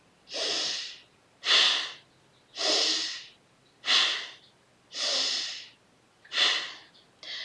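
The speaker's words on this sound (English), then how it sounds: "we're going to breathe in and out through the belly" Deep belly breathing in and out, seven slow airy breaths spaced about a second apart, each a soft rushing whoosh close to the microphone, with no talking between them.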